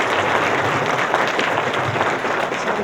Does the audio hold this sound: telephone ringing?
no